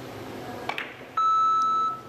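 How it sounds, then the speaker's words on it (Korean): An electronic buzzer sounds a single steady tone lasting under a second during a professional PBA team league billiards match, heard over a soft arena murmur and preceded by a couple of faint knocks. "지금 부저는 이후에 나왔고요."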